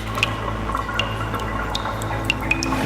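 Water drips into a wet Las Vegas drainage tunnel, scattered bright plinks echoing over a steady low trickle and rumble, close and irregular, with no speech.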